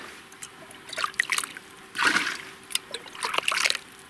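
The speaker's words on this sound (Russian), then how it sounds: "В морозы думал, вообще этот ручей замерзнет. А он еще живой." A small stream still flowing through snow during a hard winter frost trickles and splashes close by in irregular bursts, with brief quiet gaps between the gurgles.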